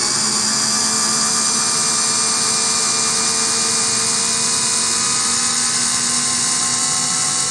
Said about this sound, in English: Let's see how it does doing the drill itself, and then we'll try again with the screw